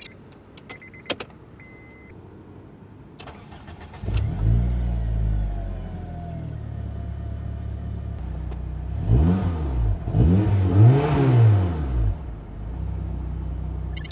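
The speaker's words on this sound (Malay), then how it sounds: "Tadi korang dah tengok dah dia punya rev dia, bunyi exhaust note dia apa semua." Honda Accord Euro R engine starting up, then revved repeatedly, rising and falling engine and exhaust note heard from inside the car, preceded by faint clicks and a brief electric whir.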